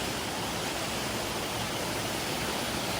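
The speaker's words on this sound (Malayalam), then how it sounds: "വെള്ളച്ചാട്ടത്തിൻ്റെ സൈഡിൽ കൂടെ ഇങ്ങനെ പോകുന്നു" Steady broadband rush of the Rock Garden waterfall in Darjeeling, heard from the path alongside the falls: a continuous, even roar of falling water with no voices.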